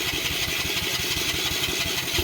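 A cold engine with an electric choke turns over and runs in a rough, rapid chug, steady and close, without any speech.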